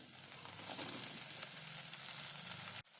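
Shallow-fried suran, elephant foot yam, dropped into a hot pan and sizzling: a close, steady frying hiss that runs throughout and cuts off abruptly near the end.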